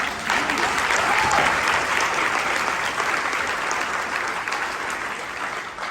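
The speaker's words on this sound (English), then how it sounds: "Everyone should clap for that." A large audience at a talk bursts into sustained applause, a dense, even roar of many hands clapping that holds steady and slowly tapers over several seconds.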